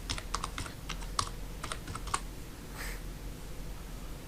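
Typing on a computer keyboard, a burst of quick, close key clicks in an irregular rhythm, then a pause and a softer tap, with no talking.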